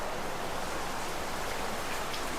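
Heavy rain pouring down at a goat farm, a dense, steady hiss of downpour that is loud and close, filling the whole stretch without a break.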